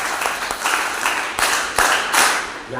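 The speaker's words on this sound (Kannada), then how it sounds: "ಚಪ್ಪಾಳೆ" An audience claps at a student inspirational talk, a short burst of loud, hissing applause that rises in waves and fades toward the end.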